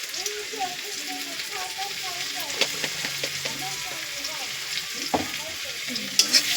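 Turmeric-spiced fish curry stirred in a pan, a steady sizzle with scattered scraping clicks of the spoon, close and moderately loud.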